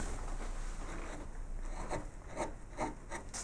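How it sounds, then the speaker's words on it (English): A small wood-carving gouge cuts egg and dart moulding. Soft, steady scraping gives way to several short, crisp paring strokes close by, with no speech. "Swapping to a smaller gouge around the bottom there."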